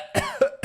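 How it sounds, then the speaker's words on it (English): One person coughs three times in quick succession, short close bursts with a brief voiced hum between them. "Coughing."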